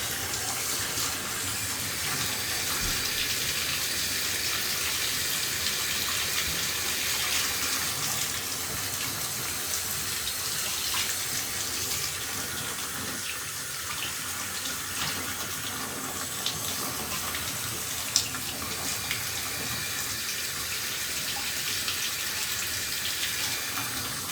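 Water runs steadily from a shower faucet, a continuous close hiss and splash with small fluctuations, alone without talk.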